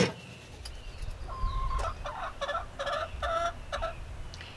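Backyard chickens cluck in an old coop, several birds giving short repeated clucks and calls at moderate distance over low background rustle.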